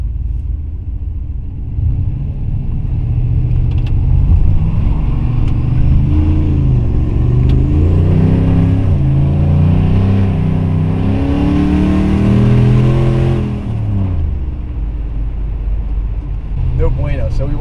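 A car engine idles, then is punched and revs up with a rising, rumbling acceleration on a wet street, staying loud and steady before dropping back near the end while people talk over it.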